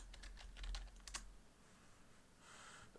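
Someone types a search into a computer keyboard, a quick burst of key clicks near the start before it falls quiet, with faint hum and no voice.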